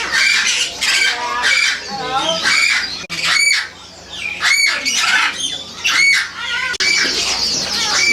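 Caged birds at the Yuen Po Street bird market in Kowloon, Hong Kong, squawking loudly and repeatedly in harsh, close bursts, with shrill calls overlapping one another and little pause between them.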